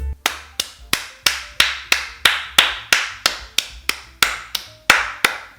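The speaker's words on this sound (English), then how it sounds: "Let's clap some quavers in a straight rhythm like this." Hands clap straight, evenly spaced quavers, about fourteen crisp, close claps each followed by a short ring-out at a steady tempo, heard alone.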